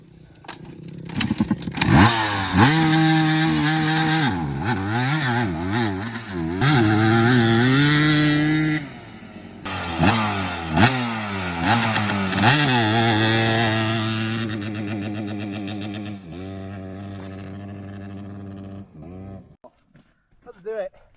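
A junkyard KTM 300 two-stroke dirt bike revs hard and close. It makes repeated sharp rising and falling blips that ring and crackle, then settle into a steadier buzzing idle before cutting out.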